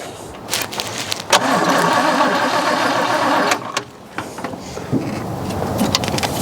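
A 1963 Oldsmobile 98 engine cranks and catches, a loud close churning that runs for a few seconds, cuts out, then sputters back with uneven bursts of revving.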